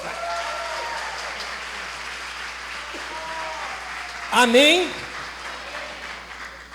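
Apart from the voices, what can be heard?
congregation applauding loudly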